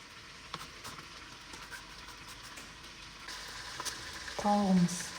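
Chicken for chakhokhbili fries in a pan with a steady, soft sizzle and crackle, swelling slightly toward the end.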